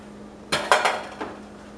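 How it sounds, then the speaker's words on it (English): A spoon stirs chicken rice in a pot, knocking and clinking against the metal sides in a quick cluster of four or five sharp taps, near and fairly loud against a quiet background. "Mix it up real nice. Get all the rice in there that we can."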